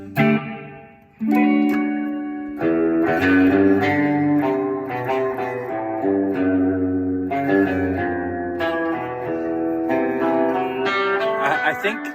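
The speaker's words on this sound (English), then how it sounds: "And then reverb." An electric guitar plays chords and picked notes drenched in reverb, each strum trailing off into a spacious wash, loud and continuous after a brief pause.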